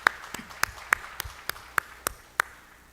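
Sparse, evenly spaced hand claps ring out during a Sunday afternoon church service, about nine sharp single claps in a row, faint and echoing in a quiet hall with no talk over them.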